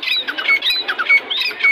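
A mixed-breed teetar partridge with thick legs calls at the Lalukhet Sunday bird market, giving a run of loud, close, repeated squawking notes in quick rhythmic bursts with no talk over them.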